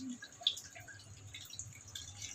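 Pineapple juice poured into a cooking pot for a pork dish, soft close dripping and trickling of liquid, quiet and brief with no talking.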